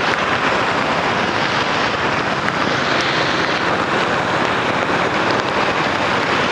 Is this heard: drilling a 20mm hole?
no